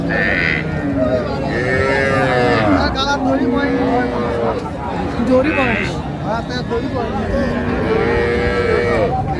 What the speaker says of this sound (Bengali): গাভী বাছুর আমরা দেখছিলাম এখানে